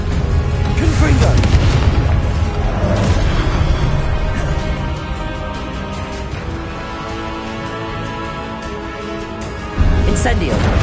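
A Confringo blasting spell bursts in Hogwarts Legacy, a loud booming explosion with a long rumbling, crackling tail that slowly fades, then a second sharp blast near the end, with a voice talking over it.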